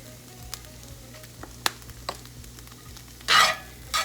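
Beef stroganoff in a pan, with faint background sizzle, a few sharp spoon clicks against the pan, and two louder bursts of scraping stir near the end.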